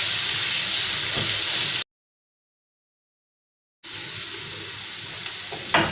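Curry leaves and slit green chillies fry in hot oil, giving a steady, close sizzle and hiss that stops abruptly for about two seconds and then resumes.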